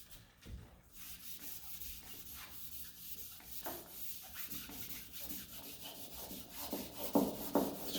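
Someone sands the wooden case of an old Steinway piano by hand along the grain, making a steady, close, gritty rubbing with rhythmic strokes that grow a bit louder toward the end, and no one talks.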